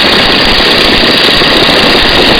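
A Stearman biplane's radial engine runs in flight with the power pulled back to about 1,800 RPM, a loud, steady, unbroken drone with no voices over it.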